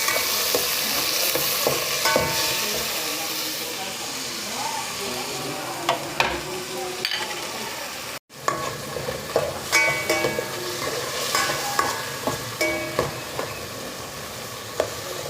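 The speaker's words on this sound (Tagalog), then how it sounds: "yung mga kamatis hanggang sa maduro kunting mantika lang yung nilagay ko" Tomatoes fry in a little cooking oil with onions, a continuous close sizzle with frequent clacks and scrapes of a spatula against the pan. The sound breaks briefly midway, then the stirring returns busier.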